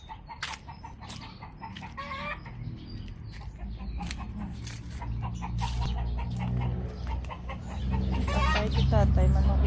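Chickens cluck repeatedly nearby, with a rooster-like call among them and a low rumble of background noise underneath; the flock grows busier toward the end.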